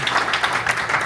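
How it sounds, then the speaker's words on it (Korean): Audience applause at an LA Korean community gathering with a party leader as guest, a steady dense patter of many hands clapping through the whole short moment. "다시 한번 열렬한 박수를 받습니다"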